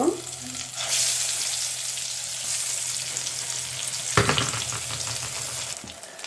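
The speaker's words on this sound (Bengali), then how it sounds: "এইভাবে করে আমি সবগুলো বেগুন ভেজে নিব।" Eggplant slices frying in a little oil in a pan, a steady close sizzle with a low hum underneath and a brief clatter of stirring near the end.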